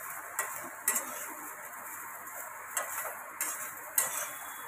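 Cumin seeds roast in a dry pan for prawn kalvan, a faint steady sizzle broken by several sharp ticks and clicks of seeds or a spoon against the metal, with no voices.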